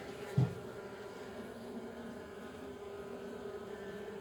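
A steady, low insect buzz hums throughout, like many honeybees droning close by at an open hive, with a faint thump near the start.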